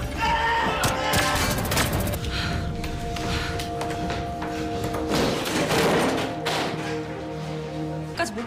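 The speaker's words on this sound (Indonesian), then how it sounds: "Di lorong terjadi saling menembak hingga tim akhirnya masuk ke ruangan kontrol" Gunfire exchange in a hallway during a film action scene: a dense, loud mix of shots, thuds and impacts under tense score, continuous for several seconds with brief gasps.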